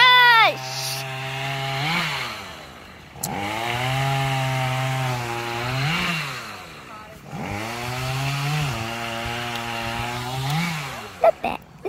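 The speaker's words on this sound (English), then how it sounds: "This is like a chainsaw." Gas-powered chainsaw running near a huge tree, its engine swelling and dropping in three repeated revving cycles, loud and close throughout.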